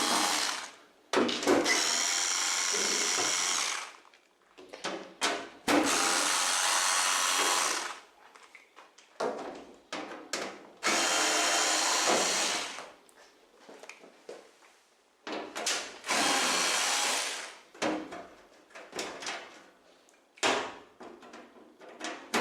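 A cordless screwdriver backs the screws out of a washing machine's rear panel in a string of loud, sustained whirring bursts separated by short pauses and light clicks, with no one talking.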